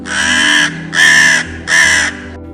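A crow caws three times, loud and close, each harsh call evenly spaced with short pauses between.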